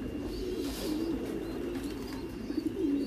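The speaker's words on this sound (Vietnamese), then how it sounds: "bồ câu Titan Thái siêu thịt nó quá đỉnh rồi" Thai Titan meat pigeons coo steadily in a loft, a low throaty rolling call repeating close by over a constant background hum, with no talking.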